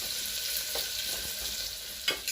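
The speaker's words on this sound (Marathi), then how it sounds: "आता हा कांदा आपण व्यवस्थित परतून घेऊयात" Chopped onion sautéed in a pan, a steady close sizzle with a few soft scrapes of a spoon and a sharper stir near the end, no voices.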